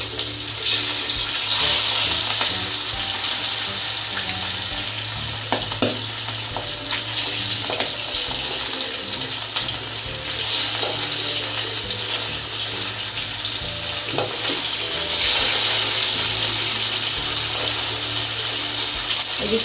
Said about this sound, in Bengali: এই পিঠটা ভাজা হয়ে গেছে, এবার আমি উল্টে দেবো আর একটা পিঠও ভেজে নেব